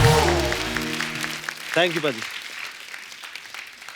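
An audience claps loudly to welcome a comedian onto the stage of a comedy show, the applause rising from a musical sting and blending under a man's brief spoken thanks.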